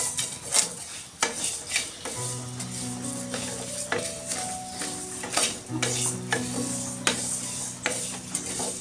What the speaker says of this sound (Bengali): এখন হচ্ছে আমি ডাউলটা ভালো করে ভেজে নিচ্ছি